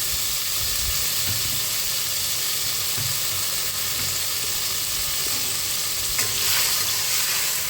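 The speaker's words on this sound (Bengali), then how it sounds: "কালো জিরার ভাজা হয়ে গেছে সেই লঙ্কাটা এর ঢেলে দিলাম" Salted bitter gourd fries in a pan with black cumin and chili, giving a continuous sizzle with soft stirring scrapes and a brief louder burst near the end.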